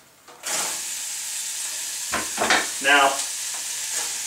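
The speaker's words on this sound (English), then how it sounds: "Get the onions in here." Chopped onions hit a little olive oil in a hot pan for sautéing, setting off a steady loud sizzle with brief stirring scrapes and a quick word spoken over it.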